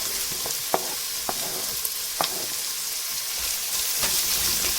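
Onions and spices fry in a pan for chilli chicken, a steady hiss broken by several sharp scraping stirs of a utensil, close and fairly loud with no talking.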